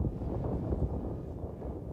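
Strong gusting wind buffets the microphone at an RC airplane flying field, a steady loud low rumble with no breaks and no voices.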